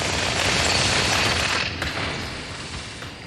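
A dual-wielded SMG and needler firing in Halo 2, a loud continuous stream of rapid automatic shots that gradually fades toward the end.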